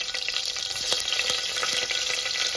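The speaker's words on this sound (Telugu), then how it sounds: "ఇప్పుడు పచ్చిమిర్చి ఇంకా ఆనియన్ వేసుకుంటున్నామండి" Green chillies and onion frying in hot oil in a pan, a loud steady sizzle with a few soft stirring scrapes, close by and with no talking.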